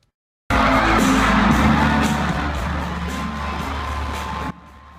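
A huge Coachella music festival crowd roars and cheers wildly for a surprise stage cameo, a dense sustained wall of screams and whoops that fades slightly before cutting off.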